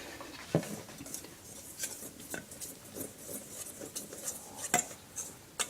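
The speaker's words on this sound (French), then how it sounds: "Vous allez commencer à mélanger la pâte." A whisk scrapes and clatters against a bowl while crêpe batter is mixed, giving soft irregular stirring with occasional sharper clinks. The sound is close and moderate, with no talking.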